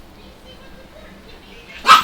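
A dog bursts into a short, sharp bark near the end, alerting to something outside, after a stretch of quiet low room noise.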